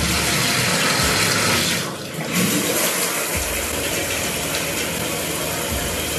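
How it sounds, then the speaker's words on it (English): Shower water runs in a steady, loud broadband rush throughout, with a brief dip in the flow partway through and no talking. "I'm going to get in the shower"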